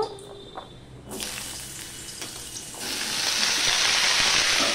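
Vegetables tossed into hot white oil for a home-cooked vegetable dish: quiet clinks at first, then a sudden sizzle that swells into a loud, steady frying hiss, close by with no voices.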